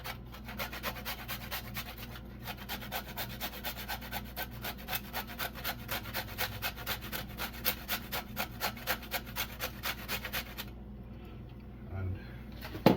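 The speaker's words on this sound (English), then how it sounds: "I'm just going to go ahead and grate this nutmeg" Whole nutmeg is grated by hand for a sea moss drink, making a steady run of rhythmic rasping strokes, about two per second, that stop near the end.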